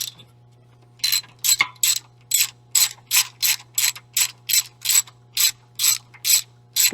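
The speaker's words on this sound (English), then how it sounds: "5/8 inch socket. Put that on the spark plug." A ratchet with a 5/8 inch socket works a Vanguard spark plug loose, sounding about thirteen crisp, evenly spaced clicking bursts, close and loud over a steady low hum.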